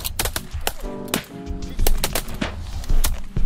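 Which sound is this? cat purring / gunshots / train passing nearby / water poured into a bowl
gunshots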